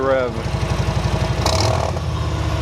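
Motorcycle fitted with a TAB slip-on exhaust, its engine idling in a steady low, deep pulse before a brief rev swells and settles, with a short voice at the start.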